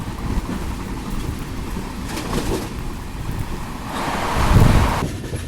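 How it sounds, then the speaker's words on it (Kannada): Strong wind gusts past a coastal Karnataka train near Honnavar in heavy rain, a steady broad rushing roar that swells louder for a few seconds near the end, with no voices. "ಏನು ಗಾಳಿ ಬಿಸಾದ್ರಿ ಇಲ್ಲಿ"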